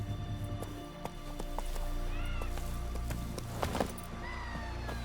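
Hooves clip-clop at a steady galloping rhythm over constant game music in The Witcher 3: Wild Hunt, with a horse's short whinny near the end.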